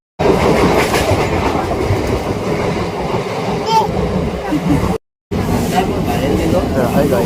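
A suburban train heard from inside rolls with a loud, steady rumble and rhythmic clatter of wheels over rail joints. It cuts out briefly near the end, and people talk over the noise.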